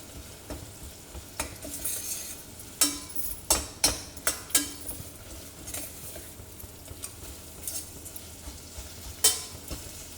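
Ginger garlic paste cooking in a little oil for a home-style mutton curry, with a soft steady sizzle under scattered sharp clinks and scrapes of a spoon stirring against the pan.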